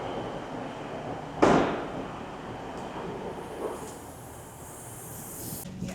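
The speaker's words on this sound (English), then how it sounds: "Made it on my connecting train successfully." An East Midlands Railway connecting train, heard from on board or close by, gives a steady low rumble and hiss with a sharp loud burst early on and softer clanks afterward.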